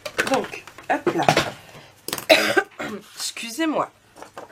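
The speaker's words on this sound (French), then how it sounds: "Une petite toux." A short, sharp cough close to the microphone, set among bursts of speech from a nearby voice.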